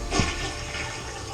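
A toilet flushes in a summer house just after the water supply is turned back on, a close, steady rushing gush that fills the short moment.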